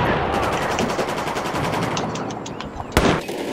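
Gunfire in the video game Battlefield 4 rattles in rapid automatic bursts, steady and fairly close, ending with one sharp, louder shot near the end.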